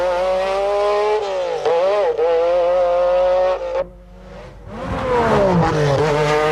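A rally car on a stage of the 1992 Donegal International Rally howls past at high revs, its engine note rising and falling through gear changes and dipping briefly before surging loud again close by.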